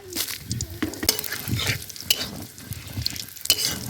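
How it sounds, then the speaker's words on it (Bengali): Whole five-spice, dried red chilli and bay leaf crackle and sizzle in hot mustard oil, with bursts of spluttering and scraping stirring strokes close by. "এবার ওতে একটু সর্ষের তেল দিয়ে দেবো ফোড়ন পাঁচ ফোড়ন শুকনো লঙ্কা তেজপাতা"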